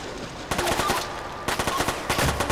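Automatic pistol in the video game Quantum of Solace fires two rapid bursts of shots, each a quick, loud rattle of sharp cracks, separated by a short pause.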